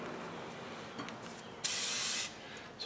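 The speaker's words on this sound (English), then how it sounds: "So we'll hit her up with some fluid film." Fluid Film aerosol sprayed onto a cleaned rear wheel hub of a Honda CR-V during a wheel bearing repair, one steady close hiss lasting under a second, with faint clicks and handling noise before and after.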